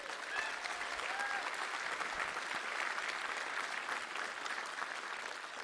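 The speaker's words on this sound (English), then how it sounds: "So y'all know you're clapping for yourselves," Steady, dense applause from a large convention crowd at PAX East during a Borderlands 3 announcement panel, filling the room at an even level for several seconds with no voices on top.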